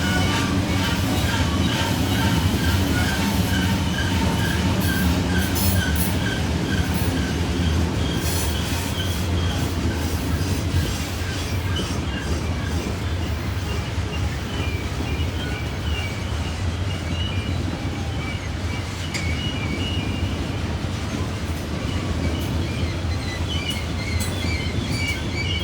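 A long coal train with six pusher locomotives eases downhill around Horseshoe Curve in Pennsylvania, wheels squealing and clanking steadily alongside a deep diesel rumble, loud and close throughout with no talk.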